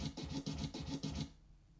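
A DJ scratch effect from a Samsung MX-ST40F party speaker, with about eight quick, even back-and-forth scrubs over just over a second, then cut off abruptly into quiet.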